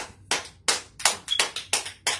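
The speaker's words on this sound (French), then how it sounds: "Applaudissons pour l'Éternel." Church congregation clapping together during a worship service, six sharp, evenly spaced bursts of hand claps in a steady rhythm, moderately loud and close, with no talking.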